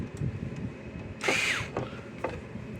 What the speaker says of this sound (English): Now we'll just put the screws back on the front.